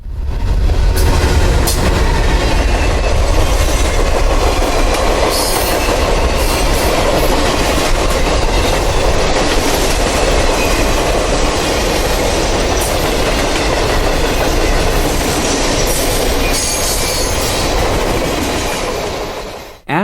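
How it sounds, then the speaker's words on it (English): Norfolk Southern train 256 rolls past BD Junction outside Decatur, Illinois, as it meets manifest train 297. A loud, close, continuous rumble of rail cars carries rhythmic wheel clatter and occasional squealing for the whole stretch. "We would capture 256 for a second time just outside of Decatur as it passed Manifest Train 297 at BD Junction."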